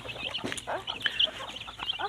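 Bantam chickens cluck and chatter nearby on a rural Isan farm in Thailand, several birds making short overlapping calls against a quiet outdoor background.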